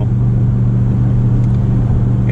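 A 2019 Ram 1500 Big Horn pickup with a 5.7L HEMI V8 towing a load up a steep hill, kicking down a gear, its engine a loud, close, steady low drone under road rumble.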